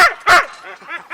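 Sled dogs bark close by in two sharp, loud yaps, followed by softer whining yips and a final bark, all within about a second.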